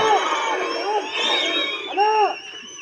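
A crowd at a public address by the deputy chief minister breaks into cheering, with rising whoops and shouts swelling in waves over a few seconds, loud and close.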